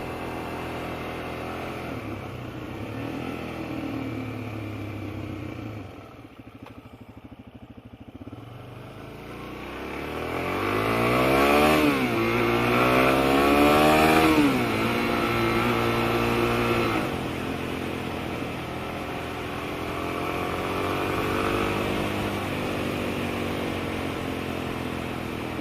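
A Suzuki DRZ400 motorcycle on a road ride from home to town, engine droning steadily with wind noise, then revving up through rising and falling gear changes midway before settling back to a steady cruise.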